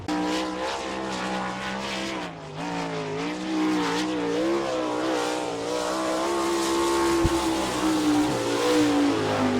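Sprint race car lapping the Attica, Ohio dirt track, its engine note rising and falling through the corners in a loud, sustained howl, with a sharp click near the end.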